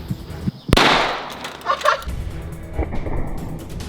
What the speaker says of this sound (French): on a fait une explosion, c'est pas mal, mais on en veut plus